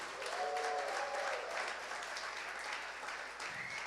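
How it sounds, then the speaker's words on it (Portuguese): A church congregation applauds in a steady wash of clapping, fairly distant and soft, with a few faint vocal cries or whoops rising over it early on. "dê um aplauso"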